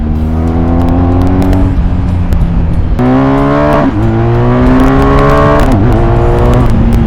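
A 2019 BMW R1250GS Adventure motorcycle engine pulls hard and loud up through the revs, with rising tones broken by quick gear shifts, heard close throughout.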